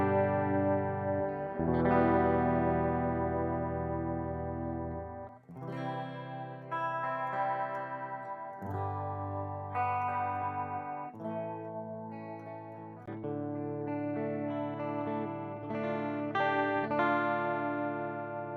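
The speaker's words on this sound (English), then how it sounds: "Sonicake Cloud Chorus, now live, set at noon. So I'll just do some whole chords really, so we can listen," Electric guitar strumming sustained whole chords through a Sonicake Cloud Chorus pedal, shimmering and slightly harsh, each chord ringing for a few seconds before the next, alone without talk.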